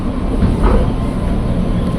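A KRL commuter electric train runs with a loud, steady rumble and rolling rail noise, heard close up from on board with no talking.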